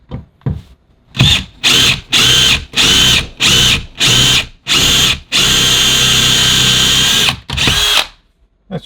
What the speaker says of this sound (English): You're gonna do a couple little drills,